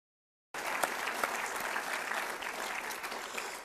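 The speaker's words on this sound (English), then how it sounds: "please help me applaud the Master Plan Committee, who really did a thorough job in crafting Daemen's future." An audience at a college State of the College address applauds the Master Plan Committee, a dense burst of clapping that starts abruptly after silence and holds steady.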